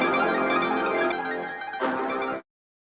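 A sustained brass-like melodic tone with rich harmonics, steady and fairly loud, swelling briefly near the end before cutting off abruptly.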